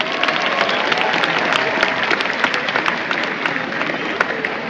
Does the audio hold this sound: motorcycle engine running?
no